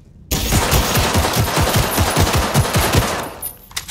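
Rapid automatic gunfire from the video game Cyberpunk 2077 during a firefight aimed at headshots, a loud steady burst of closely spaced shots lasting several seconds, with no voices over it.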